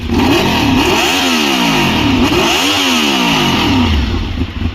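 A Honda VFR 750 motorcycle engine, warmed up, revs up and down in repeated surges, loud and close, with a rough mechanical rattle underneath.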